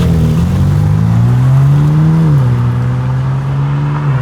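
A BMW G80 M3 fitted with an HFD valvetronic midpipe exhaust revs loudly and close up, the engine note rising, dipping and holding as a deep, droning roar with no voices over it.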